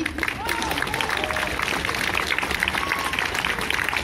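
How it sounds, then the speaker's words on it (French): A concert audience applauds a choir after a spoken introduction, steady dense clapping with some voices talking over it throughout. "je pense qu'on peut les applaudir puisqu'ils viennent de commencer"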